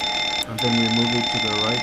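A steady ringing fire alarm bell sounds in the cockpit of a PMDG Boeing 737-800 flight simulator, continuous and fairly loud beneath someone talking.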